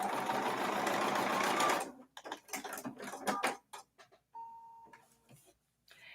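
A sewing machine stitches a line across foundation paper piecing in a fast, steady whir that runs for about two seconds and then stops, followed by scattered handling clicks and rustles.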